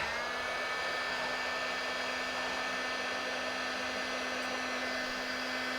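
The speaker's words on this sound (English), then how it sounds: "I'm going to use one of our air pumps at the moment, give it a bit of a blow up." A battery-powered electric air pump runs steadily to inflate camping gear, giving a continuous, even motor whine and rush of air with no pauses or change in pitch.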